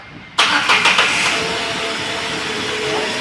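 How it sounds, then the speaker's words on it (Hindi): A car engine cranks and catches on battery power after a short quiet moment, then settles into a steady, loud idle heard close by, with no voices. "मैं करता हूँ गाड़ी स्टार्ट"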